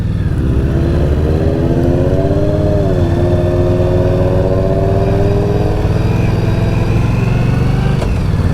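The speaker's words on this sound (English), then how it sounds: "It's got a nice little lope here at idle." Indian Scout Bobber motorcycle engine idling close by, a loud steady low rumble with an uneven lope and slight pitch wavers, and wind noise in the background.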